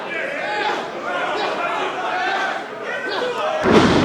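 A wrestler is slammed to the mat after a series of elbow shots in a professional wrestling match. The heavy thud lands near the end, under continuous commentary and crowd noise.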